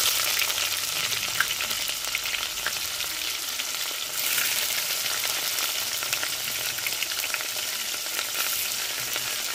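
Onions and curry leaves fry in hot oil for a fish curry, a loud continuous crackling sizzle that holds steady with light stirring, no talk.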